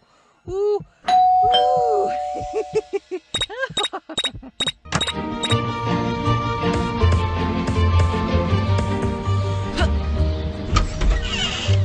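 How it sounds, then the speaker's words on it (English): A doorbell chimes several times in quick, uneven bursts, loud and close, followed by a sustained ringing tone with a dense low rumble beneath it. "Bell again."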